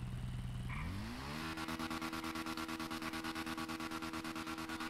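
A Honda Fan 160 motorcycle engine revs up in neutral, its pitch climbing over about a second, then holds a fast, steady, throbbing rev, loud and close, with no talking.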